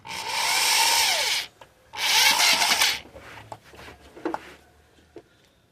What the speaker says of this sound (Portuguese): você vai pegar aqui o parafuso normalmente e vai parafusar